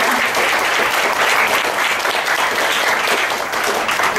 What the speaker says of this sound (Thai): อยากจะขอเสียงปรบมือเป็นการขอบคุณพี่ทุกคนนะคะ